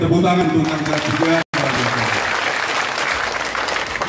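Applause at a political rally for regent candidates in Nagekeo, a dense, loud crowd clapping that runs continuously, briefly cut off for an instant, with a voice speaking over the start.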